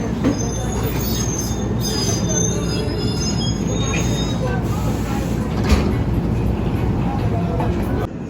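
New York train arriving at Grand Central, close and loud with a continuous rumble and shrill high wheel squeals over it, and faint voices underneath.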